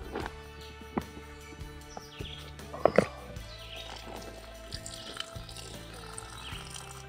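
Water running into a Scrubba wash bag while doing camping laundry, a quiet continuous trickle and slosh near the microphone, broken by a few small knocks and plastic clicks, with no talking.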